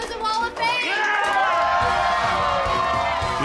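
A crowd cheers and shouts loudly and continuously at a spicy soup eating challenge, with excited voices swelling together after a brief dip at the start.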